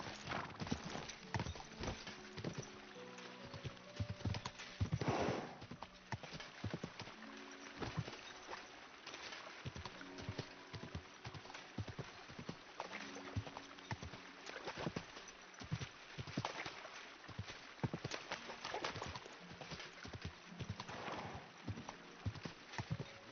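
Horse hooves clip-clopping in the video game Kingdom Come: Deliverance II, a steady rhythmic trot of hoofbeats continuing throughout, fairly quiet and alone.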